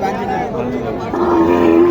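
Cattle lowing at a busy livestock market in Naogaon, with sustained low moo-like tones rising and holding steady near the end over a constant crowd murmur.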